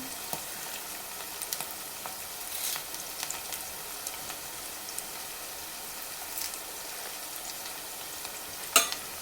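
Curry leaves and okra fry in oil with a soft continuous sizzle, occasional stirring scrapes and light pops, ending in a sharper clatter.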